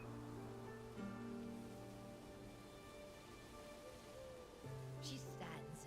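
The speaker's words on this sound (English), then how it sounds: "She stands in the rain" Rain falls steadily in the video game Nikki and Momo Island, a soft constant patter under a sustained background tone with faint, brief voice-like sounds.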